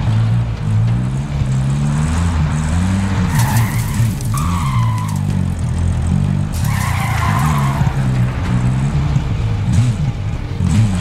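Vehicle in Call of Duty: Modern Warfare drives with a steady low engine drone while tires skid and squeal in two long bursts near the middle, loud and close throughout.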